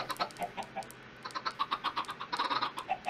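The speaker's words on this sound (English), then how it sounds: "What is that chicken still doing down there?" Repeated short clucks from a chicken in a Minecraft-style video game, in quick uneven bursts, moderately loud and near, with no talk over them.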